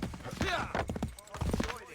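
Horse hooves pounding in the video game Assassin's Creed 3, a quick clopping gallop mixed under overlapping speech and game sounds.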